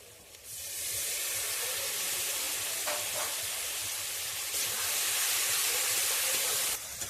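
Water splashed into a pan of hot, well-fried spices for a mutton and new potato curry sets off a sustained, fairly soft sizzle and steamy hiss, with a brief clatter partway through.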